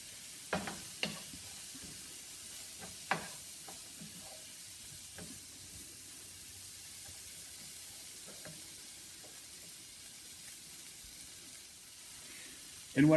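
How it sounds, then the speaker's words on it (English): Vegetables being stirred and coated with olive oil in a pan: a soft steady sizzle with a few scraping stirring knocks, faint and close, and a louder clatter at the very end. "Now I'm going to start mixing everything in. You want to get everything nice and coated with the olive oil."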